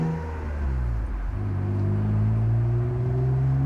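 A BMW Z3 M and a Datsun 280Z sports car race, with a loud, close engine rumbling and then revving up, its pitch climbing steadily as the car accelerates.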